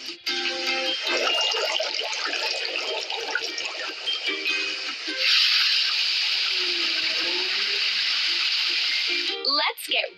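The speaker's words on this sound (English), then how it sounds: "Let's fill it with water and turn the fountain on." Water pouring into a park fountain in a construction simulator game, a continuous rushing, splashing flow that thickens partway through and cuts off near the end, alongside game sounds.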